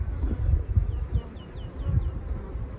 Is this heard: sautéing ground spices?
no